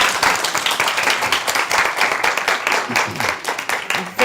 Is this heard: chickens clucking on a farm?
no